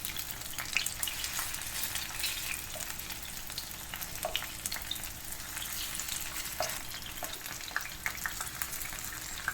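Okra pieces frying in oil over a low flame give off a steady, fairly quiet sizzle with scattered small pops and crackles, heard alone without voices.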